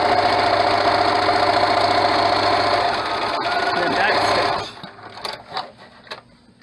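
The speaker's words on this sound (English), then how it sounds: "And then I'll just back stitch over it and go ahead and sew and do our 1/4 inch seam." A sewing machine stitches a quarter-inch seam on a child's cloth mask, running steadily and loudly for several seconds before stopping, followed by quieter handling sounds.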